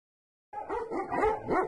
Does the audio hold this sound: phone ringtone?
no